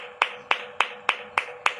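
Congregation in a church clapping loudly in unison at a steady beat, six sharp claps in under two seconds, close and clear with no talk over them.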